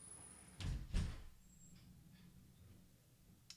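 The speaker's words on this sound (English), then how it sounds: "Sound of door closing." A door closing indoors, heard as two soft, low thuds in quick succession followed by a quiet room with faint small noises.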